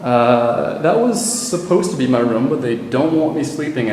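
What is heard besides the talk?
No everyday noise stands out behind the speech.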